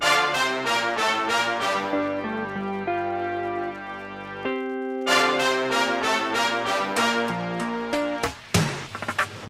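Synth brass plays an intro of rapid staccato stabs that drop into sustained chords, pause briefly, then return with more stabs before a few thuds.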